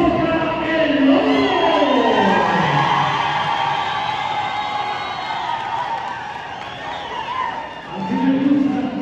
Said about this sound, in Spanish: ¡fuerte aplauso para el Lobo!